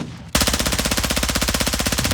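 An automatic gun fires in a video game, a rapid, evenly spaced burst of loud close shots that starts abruptly and runs steadily without pause.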